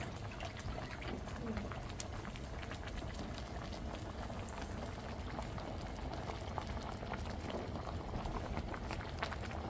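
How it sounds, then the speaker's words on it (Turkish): Liquid bubbles and churns at a steady rolling boil in a cauldron while making butter, a dense crackling burble that continues throughout, fairly quiet and close. "Kaynıyor."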